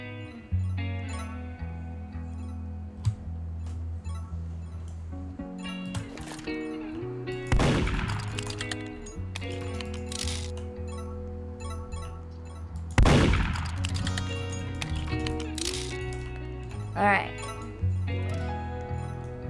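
Gunfire in the online game Murder Mystery 2: a few loud, sharp shots stand out over busy game music and effects, with people talking throughout.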